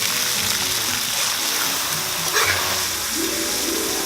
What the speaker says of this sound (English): These get tossed in hot oil until they're crispy.